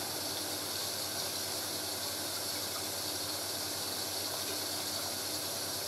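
A Hoover A3060 washing machine on its second rinse fills with water, making a constant, even hiss and rush with a faint low hum beneath, steady and unbroken throughout.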